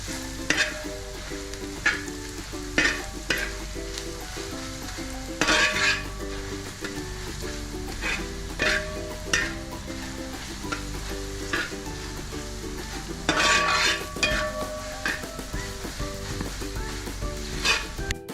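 Garam masala, black pepper and turmeric fried in a pan for a Kerala-style chicken-veg kurma, a continuous close sizzle broken by rhythmic spoon scrapes against the pan, with a steady tonal backing underneath.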